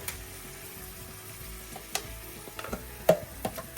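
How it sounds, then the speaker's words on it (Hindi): Chicken frying in a home kitchen pan, a low steady sizzle with scattered stirring clicks and a few sharper pops near the end, fairly faint and with no talk. "अब मैं इसको अच्छे से फ्राई कर लेती हूँ, ताकि पूरा चिकन बन जाए, भुन जाए"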